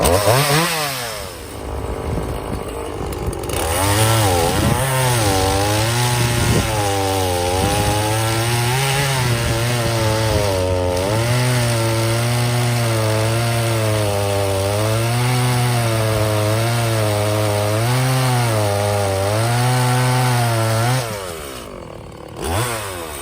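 A freshly sharpened chainsaw cuts through walnut and beech logs, running loud and steady for about twenty seconds with its engine pitch rising and dipping under load, then dropping off near the end.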